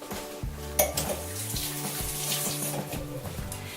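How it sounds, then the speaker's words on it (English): A tap runs steadily into a kitchen sink while hands are washed, the flow close and constant. Light clinks of dishes and a faint musical hum sit underneath. "I'm going to go ahead and I'm going to wash my hands."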